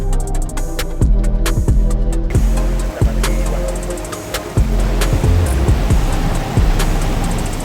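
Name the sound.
river water during a motorcycle river crossing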